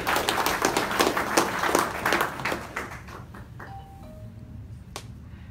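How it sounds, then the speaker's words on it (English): Audience applause at a business training event in a hall, a dense burst of clapping that fades out over a few seconds, followed by a faint ping. "A great round of applause."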